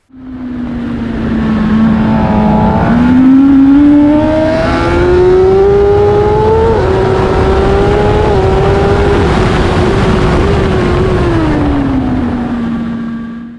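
Racing motorcycle at full throttle, short shifting through the gears in fourth gear to keep the front wheel down, its engine note loud and continuous, rising in pitch, dipping briefly at each upshift, then falling away near the end.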